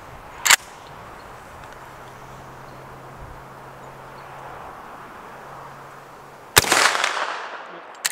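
Two sharp rifle shots from a Marlin 1895SBL aimed at an AR-550 steel target at 100 yards, spaced about six seconds apart, the second followed by a lingering outdoor echo and faint ring.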